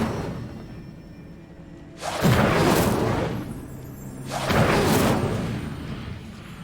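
Two fire spells cast in Hogwarts Legacy, each a loud roaring whoosh of flame bursting up and then trailing off, a couple of seconds apart over a low background hum.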